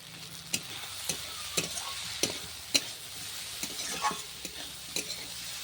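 Spice masala with chopped cashews and raisins frying in a pan for paneer butter masala, a steady sizzle broken by regular sharp scrapes of a spoon stirring about every half second, close and moderately quiet.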